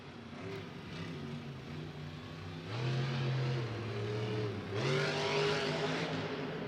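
A monster truck engine revs at a Monster Jam stadium show, a loud sustained roar that climbs in pitch in two strong surges against the arena background.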